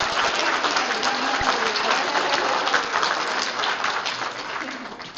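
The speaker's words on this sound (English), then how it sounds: "Let's give Kelsey a round of applause for her great introduction." Steady audience applause at a session, dense clapping from a seated crowd sustained throughout and easing slightly near the end, no voices over it.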